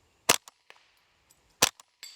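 Two sharp, loud rifle shots from a Ruger 10/22 in a bullpup chassis fired at a steel plate outdoors, each crack followed by a short fainter echo or ping, with about 1.3 seconds between shots.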